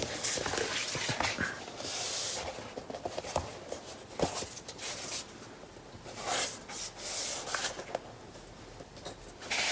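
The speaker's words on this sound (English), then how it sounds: "I'm just taking off the little bit of excess glue I've got there." Excess glue being rubbed off a paper notebook cover, soft uneven scuffing and rubbing strokes in short bursts, close and fairly quiet.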